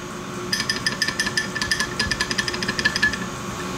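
Worn crankshaft from a Piaggio MP3 500 scooter engine being moved by hand, producing a rapid run of small metallic knocks and clinks, close and fairly steady, over a faint background hum.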